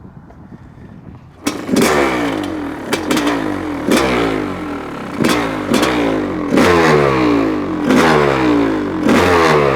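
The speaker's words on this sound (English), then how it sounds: "The motor sounds different with a muffler on it" A Honda CR500af motorcycle with a muffler fitted starts after a short rumble, then runs loud and close, with repeated sharp revs rising and falling roughly every second over a steady idle.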